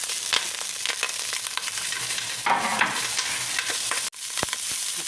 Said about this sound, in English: Now I'm going to saute the onions and the garlic.